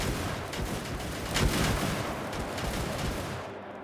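Massed musket volleys from soldiers in Mount & Blade II: Bannerlord, a dense crackle of overlapping shots rolling on steadily for several seconds, loud and continuous with no talk.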